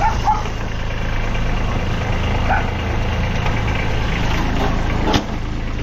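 A small engine idles steadily and close by, a continuous low chugging hum with a brief clunk near the end.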